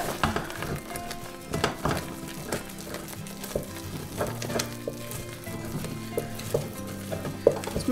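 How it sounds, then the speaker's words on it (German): Choux dough being stirred and worked with a wooden spoon in a hot pot after the flour goes in, giving repeated knocking scrapes and soft thuds over a faint sizzle, close and steady with no talking. "das Mehl in einem Stück dazugeben und direkt mit dem Holzlöffel"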